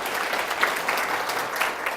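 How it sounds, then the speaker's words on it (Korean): Audience applause at a Korean Minitab software seminar, a short burst of steady clapping from a modest indoor crowd, fairly close and even throughout. "큰 박수 부탁드리겠습니다."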